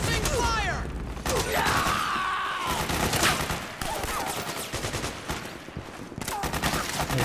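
Gunfire in the Metal Gear Solid 4 video game: dense, rapid bursts of shots and clattering mechanical effects that run almost nonstop at close range, mixed with other game sounds.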